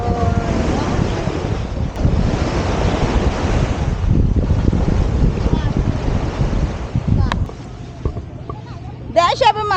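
Ocean waves surge and wash steadily under strong wind rumble at a beach in San Antonio, Zambales, Philippines, with a few brief voices near the end.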